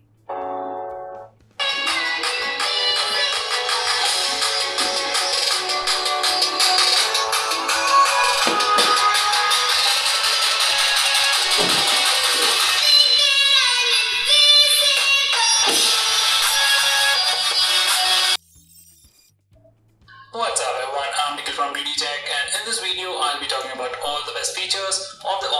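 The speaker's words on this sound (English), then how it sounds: "let's see how the speaker sounds on this phone" The loudspeaker of an Infinix Note 5 Stylus phone plays music loudly and continuously for a long stretch, drops briefly to near silence, then resumes playback.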